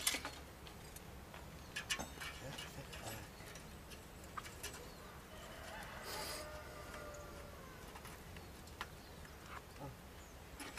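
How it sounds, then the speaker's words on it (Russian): A rooster crows faintly in the distance midway through, a single drawn-out call, while light scattered ticks and taps from nearby work continue in a quiet outdoor setting. "Петухи помогают нам работать сегодня."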